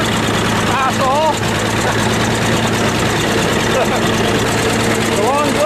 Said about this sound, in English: Why are we driving the bulldozer?